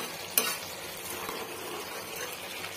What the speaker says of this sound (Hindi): इसको थोड़ा सा हिला करके ऊपर नीचे कर दे रहे हैं